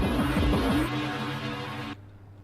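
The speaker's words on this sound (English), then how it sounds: "that captures the electromagnetic field of a device. So what we're hearing is it vibrating." An electromagnetic field recording of a vibrating device: a dense, buzzing electronic drone with harsh distorted tones that cuts off abruptly near the end, leaving a faint low hum.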